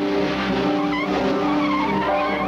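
A car accelerating hard with tires skidding, a loud continuous engine roar and squealing rubber close by, with no speech over it.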